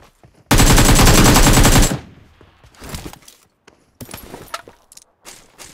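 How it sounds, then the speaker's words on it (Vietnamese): Gunfire in a mobile shooter game played on an iPhone Xs Max: a loud, sustained automatic burst of about a second and a half, followed by scattered shorter shots and clicks at irregular intervals. "Em có nghe tiếng bắn không?"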